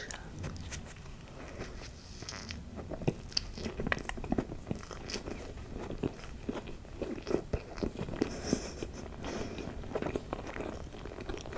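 Wet, sticky chewing of marshmallows close to the mic, with soft smacking and squishing bites repeating irregularly over a quiet background.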